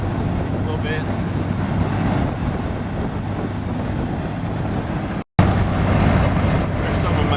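An MGB sports car on worn tires drives along with a steady, loud road and wind rumble throughout, briefly cutting out for a moment before the noise resumes.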